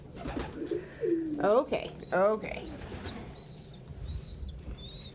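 Pet pigeons at breakfast make soft throaty coos and rippling calls, with a couple of short bursts of wing flapping nearby, while a person speaks briefly.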